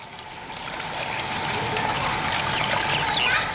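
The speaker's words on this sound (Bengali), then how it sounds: "তো আমি এটাতে এখন জল দিয়ে দিচ্ছি" Water poured steadily into a potted plant's soil while planting a jujube tree, a continuous soft trickling stream heard close and fairly quiet throughout.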